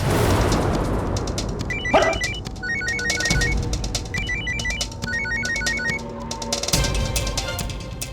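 A phone ringtone chimes in repeated short electronic bursts, fairly close, over a busy background with a sudden thump early on.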